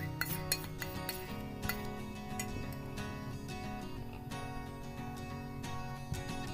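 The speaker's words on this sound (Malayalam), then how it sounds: "ആദ്യം മാറ്റി വെച്ച മഞ്ഞ ഉണ്ണി നമുക്ക് തിരിച്ചൊന്ന് ഒഴിച്ചെടുക്കുക എന്നിട്ട് ഇതേപോലെ തന്നെ നല്ല മിക്സ് ചെയ്തെടുക്കണം നമുക്ക്" Whisk or spoon clinking against a bowl while egg yolk cake batter is mixed, a steady run of light metallic and glassy taps with a few sharper knocks, close and with no talk.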